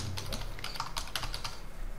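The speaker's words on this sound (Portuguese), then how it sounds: "Vocês conseguem ver o que eu estou digitando aqui?" Steady, rapid typing on a computer keyboard during an online class, quick clicky keystrokes close up and alone with no talking.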